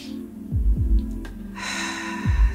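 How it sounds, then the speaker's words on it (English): A deep breath drawn in, a broad airy inhalation swelling from about one and a half seconds onward over a low background hum and a few soft thumps, with no talk. "let's take a couple of deep breaths in"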